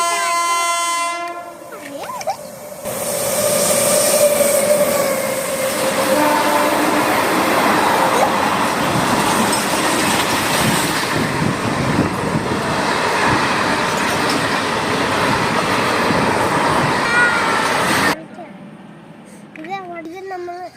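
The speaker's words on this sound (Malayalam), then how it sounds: "ഇപ്പൊ ട്രെയിൻ വന്നിട്ടുണ്ട്." A train arrives and roars past nearby, a loud, sustained rumble with wheel noise and horn tones that lasts most of the stretch before cutting off abruptly, with voices faintly around it.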